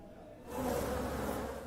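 Honey bees buzzing around a beekeeper's hives in Nicaragua, a steady dense hum that swells in after a quiet start and holds close and continuous.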